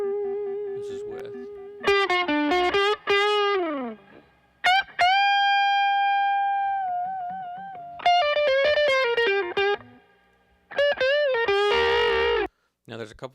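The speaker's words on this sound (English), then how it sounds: "I hear a little bit more reverb coming through off of the matchless amp, which I like." Lead blues guitar through a Matchless amp with reverb plays bending, sustained notes in short phrases separated by pauses, with a long held note ringing out mid-passage and reverb tails trailing each line.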